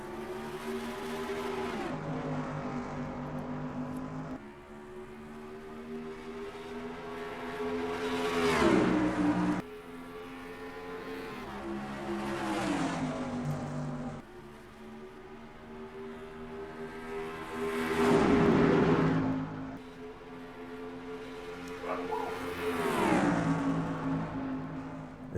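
Race cars in NASCAR Racing 2003 sprint series at Atlanta Motor Speedway roar off at the green flag, engines revving and rising in waves of acceleration, loud and close with no talk.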